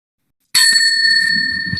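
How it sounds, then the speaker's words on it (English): A timekeeper's bell at a school debate competition semi-final gives a single bright, clear ring that starts abruptly after silence and sustains with a shimmering tone. "timekeeper boleh bunyi bell sikit"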